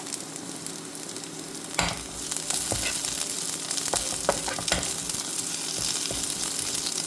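Curry leaves crackle and spit as they hit hot oil in a pan with Chinese potato (koorkka) for a Kerala stir-fry, a continuous close sizzle punctuated by sharp pops and stirring scrapes.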